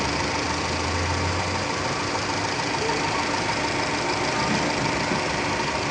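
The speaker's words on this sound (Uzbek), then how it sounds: "Motor ishlashi juda cho'tki ishlayapti. Bir tekis ishlayapti mana ko'rib turganingizdek." A Chevrolet Cobalt engine idles steadily after repair, a continuous, even mechanical hum with fine rhythmic knocking texture, close and fairly loud, with no talk over it.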